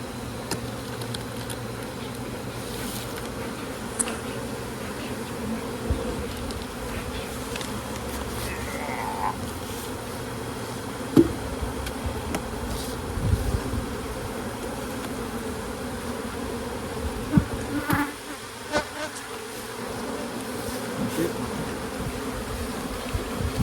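Honeybees buzz steadily around a hive badly infested with mites, a dense continuous hum close by with occasional louder passes and faint handling noises, no voices.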